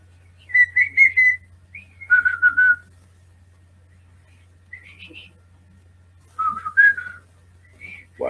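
A person whistles a few short melodic phrases, clear and close, in bursts separated by pauses and over a low steady hum.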